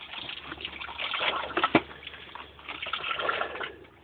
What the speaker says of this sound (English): I'm going to pop this water pump off.